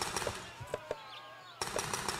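Paintball guns fire in Challenge Speedball, quick bursts of sharp rapid pops at the start and again near the end, separated by a brief lull, all fairly faint.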